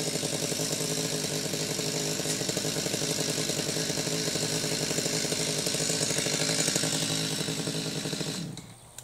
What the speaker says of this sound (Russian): Все, он начинает пилить.